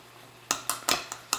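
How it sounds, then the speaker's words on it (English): A spoon or spatula scrapes and knocks against a bowl while mixing a cheese mixture for baked ziti, five sharp clacks in an uneven rhythm, close and fairly loud against a quiet background. "Mix this together."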